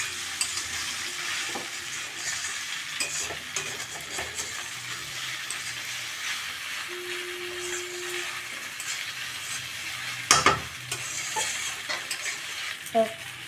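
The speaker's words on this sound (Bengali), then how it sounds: "দিয়ে সব কিছু একসাথে এখন মিশিয়ে নেব।" Ingredients stirred together in a frying pan, a steady close sizzle with repeated spatula scrapes and a few sharp clinks against the pan near the end.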